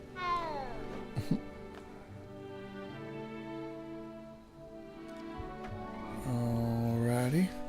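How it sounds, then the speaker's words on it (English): A cat in Hogwarts Legacy meows several times, drawn-out tonal cries that rise and fall, the last one louder and more insistent, heard close over a soft background hum. "It's a cat."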